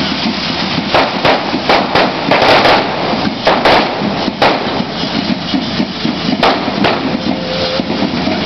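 Correfoc fire-running at a Catalan street parade: a continuous roaring hiss of fire-spitting pyrotechnics, punctuated by sharp firecracker bangs at irregular intervals, loud and close, with crowd noise beneath.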